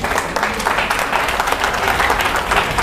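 A church congregation claps together in a dense, loud, sustained wash of hand claps that holds steady from start to finish.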